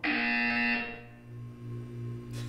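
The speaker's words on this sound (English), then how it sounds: "You will hear a buzzer." A loud, harsh electronic buzzer from the video game Portal 2 blares at once, then drops to a lower, steady droning hum that lingers to the end.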